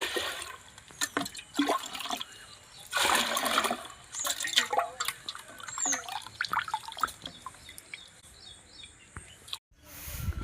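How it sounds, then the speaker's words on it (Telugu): Soaked moong dal being washed by hand in water to rub off husks, with bursts of splashing, pouring and sloshing between quieter dripping moments and faint background sounds. "ఉదయాన్నే ఇలాగా ఆ పెసల పొట్టంతా కూడా పోయేటట్టుగా శుభ్రంగా మంచిగా కడుక్కోవాలండి"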